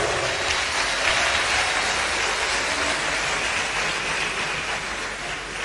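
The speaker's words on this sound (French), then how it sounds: "qu'on peut applaudir très fort" Sustained, dense applause fills a conference hall as an audience claps loudly for the Senate president at a political party council meeting, steady and even throughout with no voices on top.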